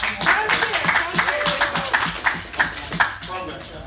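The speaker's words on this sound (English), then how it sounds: "Chuck's here, so give him a round of applause" Audience applause at a convention panel, a steady patter of clapping hands for nearly four seconds, with voices talking over it.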